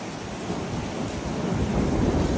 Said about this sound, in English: That was a crack of thunder.